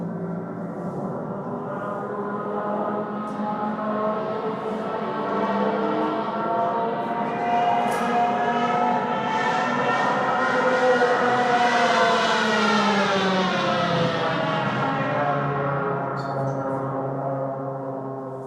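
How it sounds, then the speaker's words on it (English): A long wailing Junkers Stuka dive-bomber siren, the Jericho trumpet, rising slowly in pitch and loudness, peaking, then falling away, loud and continuous with no voices. "The Jericho trumpet was the siren fitted to the underside of the Junkers Stuka"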